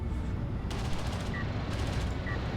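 Gunfire in the real-time strategy game Homeworld: Deserts of Kharak, a dense steady crackle of rapid shots under in-game noise, with two brief bursts of sharper, brighter fire.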